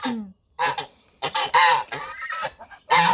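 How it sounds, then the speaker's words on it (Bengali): Two female ducks quack loudly and harshly in several close, repeated bursts, with short pauses between calls. "এই যে 2টা হাঁস নিয়ে আসছে, 2টাই মেয়ে হাঁস"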